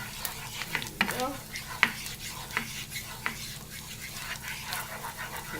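Shrimp sizzle in butter in a pan, a soft continuous crackle with occasional clinks of a utensil, faint and steady with no one talking.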